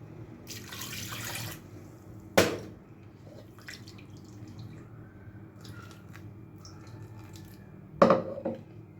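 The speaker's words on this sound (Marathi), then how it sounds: "मी पाणी टाकून फिरवून घेतलं आहे" Water splashes into a juicer jar in a short burst, followed by quieter sloshing and two sharp knocks of the jar being handled.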